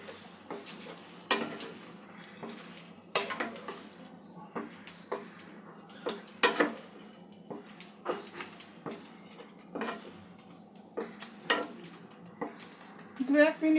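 Chicken being stirred into sweet and sour gravy in a pan, with repeated scraping and clattering strokes of a spoon at an irregular rhythm, a faint sizzle beneath, and a voice talking intermittently throughout.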